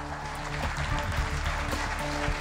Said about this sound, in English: Let's have a nice round of applause for his hard work this week.